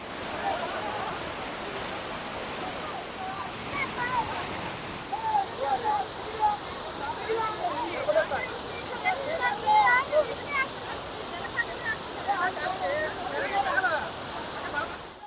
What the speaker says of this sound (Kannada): ಬಂಗಾರ ಕುಸುಮ ಜಲಪಾತ ಅಂತ ಈ ಒಂದು ಜಲಪಾತಕ್ಕೆ ಕರೀತಾರೆ